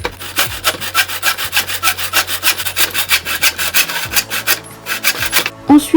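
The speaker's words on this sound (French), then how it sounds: "je commence par débiter des petites sections de bois dans un tasseau" A hand saw cuts small sections from a wooden batten in steady, close strokes, each rasping pass loud and alone, with a few brief pauses between runs.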